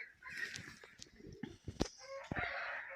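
Bantam chickens and a rooster clucking and calling close by in a noisy yard, with scattered short squawks and cackles overlapping one another.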